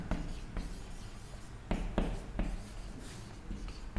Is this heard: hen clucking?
no